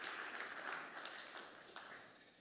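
A church congregation applauds the worship team after a song, producing a dense, continuous wash of many hands clapping. It sounds fairly distant and soft, fades a little toward the end and has no talk over it.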